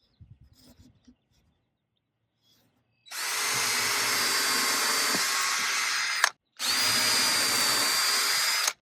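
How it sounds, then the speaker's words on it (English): A power drill bores pilot holes into wooden rails for a raised garden bed: a few faint handling knocks, then two sustained high whirring bursts of several seconds each, separated by a short pause, loud and close. "I'm going to drill these just like you normally would, pre-drill them, pilot holes"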